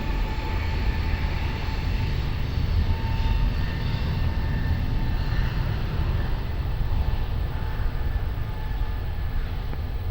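Fixed-wing airliner taking off from runway 20 at Lisbon Airport, a steady broad jet roar held at constant loudness throughout, fairly distant and continuous, with no voices.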